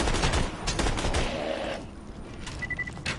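Rapid gunfire from a weapon in a first-person shooter video game, a dense burst of shots for the first half that trails off, followed by a brief electronic beep near the end.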